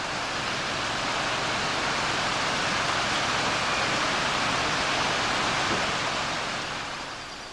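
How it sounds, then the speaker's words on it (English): Water rushing over rocks on a river near Balquhidder and Loch Voil in Scotland, a steady, loud broadband roar that holds constant throughout and eases slightly at the end, with no voices. "rushing water over rocks does make quite a bit of noise"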